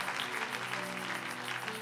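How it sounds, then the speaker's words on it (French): An audience at a church session claps steadily in a dense, continuous burst of applause under a faint sustained tone. "Acclamez très fort pour mon épouse"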